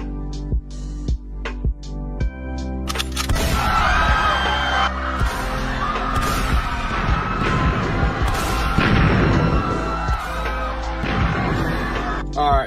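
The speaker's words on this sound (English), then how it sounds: "get the cannons ready" Cannons fire in the video game Minecraft, a dense barrage of loud booms and blasts over several seconds, with crashing and chaotic noise layered under game sounds and shouting.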